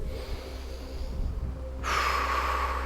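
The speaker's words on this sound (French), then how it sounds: "Et on inspire." Deep breath drawn in during a Five Tibetans yoga routine, a steady airy inhalation that swells louder and brighter in its final second, close and alone with no talk.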